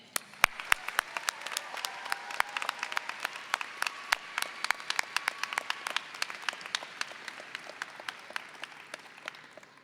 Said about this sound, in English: would like to show our appreciation with applause to our families, teachers, and friends